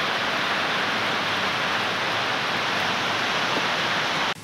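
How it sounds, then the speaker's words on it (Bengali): Heavy rain pours down in a continuous loud, dense wash of noise that stays level throughout and cuts off abruptly at the very end. "এখনও বৃষ্টি হচ্ছে।"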